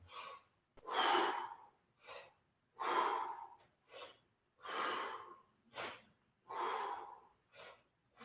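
Strong, close breaths and forceful exhales in a steady rhythm during breath squats in a vocal warm-up session, long airy bursts alternating with shorter ones and brief pauses between, with no talk.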